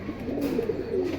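Pigeons offered for sale coo softly and close by in a short, low, rounded burst of throaty calls, quiet and with no talk over it.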